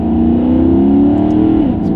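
A Maserati GranTurismo MC engine pulls at three-quarter throttle with a loud, steady mid-range drone that rises slightly in pitch, then eases near the end, heard from inside the car.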